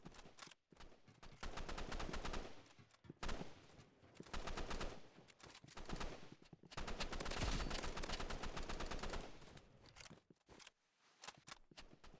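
Rapid bursts of automatic gunfire in the Roblox game Rivals, loud and close, coming in several long volleys separated by brief pauses, with no talk over it.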